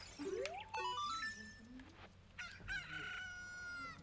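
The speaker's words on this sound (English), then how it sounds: "this is what we do with the chicken" A rooster crows in the video game The Legend of Zelda: Ocarina of Time, a loud stretched cock-a-doodle-doo call repeated twice over a dense, steady game background.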